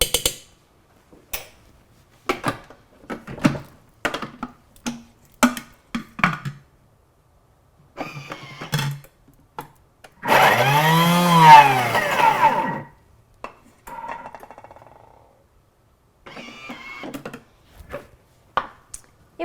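A food processor runs a short burst of about two seconds, a loud whirring grind pulverizing the last pieces of fish, set between quiet clicks and handling noises with no talk.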